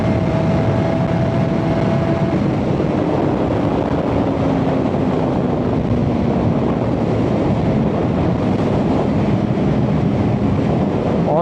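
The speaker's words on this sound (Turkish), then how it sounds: "acayip bir rüzgar var" Heavy wind buffets the microphone in a constant roar while riding a motorcycle, with a faint engine hum underneath throughout.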